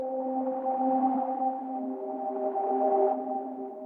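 A steady, hollow synthesizer tone with a few stacked harmonics, humming evenly with slight wavering in its upper partials.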